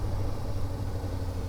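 A 2024 Kawasaki Ninja ZX-4RR engine rumbles steadily at close range while the bike is being ridden, with a low drone and no voices.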